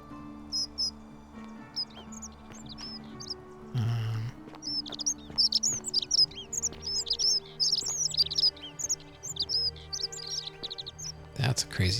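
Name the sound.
bird calling in The Forgotten City video game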